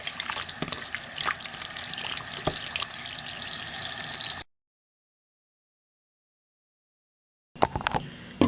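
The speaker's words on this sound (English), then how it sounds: "you're just going to turn the hot water on" Hot water gushes steadily from a tap for several seconds, stops abruptly, then starts again near the end.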